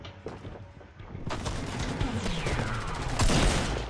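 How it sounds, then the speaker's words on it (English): Gunfire in the Fortnite video game, a rapid volley of shots with sharp cracks and whooshing projectile sweeps building to a loud, sustained burst that stays dense to the end. "He's over here shooting me from behind"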